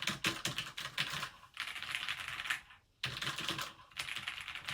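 Fingers type on a mechanical keyboard at a desk, with rapid clacking keystrokes in quick bursts broken by brief pauses, heard close and alone.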